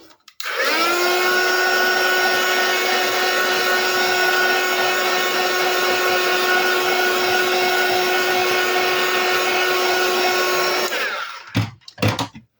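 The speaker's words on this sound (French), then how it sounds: "On sèche au gun." A heat gun blows steadily for about ten seconds as it dries paper, a constant close whirring drone with a high whine, cutting off abruptly before a few brief handling noises.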